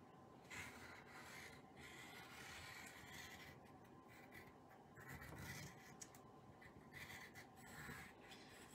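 A pencil traces flamingo head and leg templates on paper, giving soft, faint scratching strokes in uneven bursts, close and alone.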